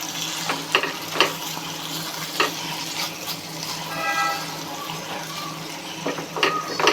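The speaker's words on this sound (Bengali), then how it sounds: "ডিমের মশলা ভালোভাবে ডিম সহ কষানো হচ্ছে" Egg masala cooking down in oil in a pan for a Dhaka-style egg biryani, a soft continuous sizzle broken by several short stirring scrapes and clinks, moderately faint throughout.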